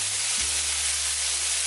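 A spicy beef patty sizzles steadily in a hot pan, a continuous close hiss of frying with a low thump as it is pressed down early on, no voices.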